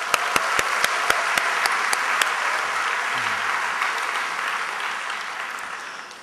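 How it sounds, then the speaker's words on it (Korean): A church congregation applauds its staff member with a warm burst of clapping, led by a few sharp distinct claps near the start, then a steady dense patter that fades slightly toward the end. "간사님께 박수를 드릴까요"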